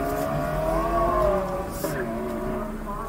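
A red car launches off the line on an autocross run at a Kansas City SCCA Halloweenie event, its engine revving up in rising sweeps through the gears, with some talk mixed in.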